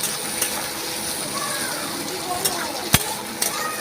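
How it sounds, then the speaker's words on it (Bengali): Shrimp frying with onions in a pan, cooked with okra and potatoes, gives a steady low sizzle with a few stirring clicks and scrapes, under faint background chatter. "এবার আমি এর মধ্যে চিংড়ি মাছটা দিয়ে ভাজবো।"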